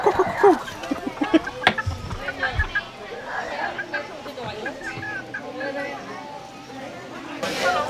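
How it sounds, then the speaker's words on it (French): Chickens cluck on a farm, a busy scatter of short calls close by with a few louder squawks, mixed with background chatter and people talking nearby. "On va aller voir les poulets."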